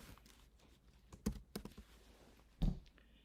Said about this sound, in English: let me go ahead and finish up the email so you can see how I do it